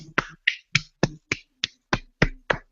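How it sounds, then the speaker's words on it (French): Ten sharp hand claps at a steady, slightly slow pace, close and dry, each one crisp and isolated with no voices in between. "C'est un applaudissement nul."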